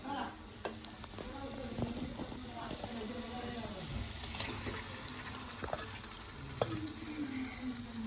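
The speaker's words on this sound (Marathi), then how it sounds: "आता आपण त्याच्यात चिकन टाकूया." Chicken pieces sizzling in masala in a kadhai for chicken rassa, a faint, close frying hiss with occasional clinks and stirring scrapes, and a voice speaking quietly under the cooking.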